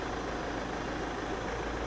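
Steady low engine rumble from vehicles idling on a narrow street, constant and fairly close, with no voices.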